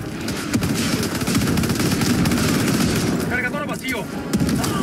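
Bombs and gunfire in the video game Helldivers 2 make a dense, loud barrage of rapid shots and booming blasts that fills the whole stretch, with a voice breaking in briefly near the end.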